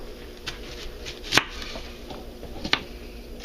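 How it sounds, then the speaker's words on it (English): A knife chopping a shallot on a cutting board: three sharp, distinct knocks spaced about a second apart, close and crisp over faint room background. "now I have to halve and peel and mince the shallot"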